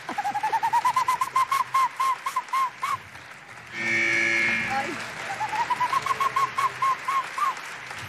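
A person imitates an owl's hoot on a talent show stage, performed as a string of short, repeated whistled notes with a steadier, louder tone in the middle, close and clear, with brief talk under it.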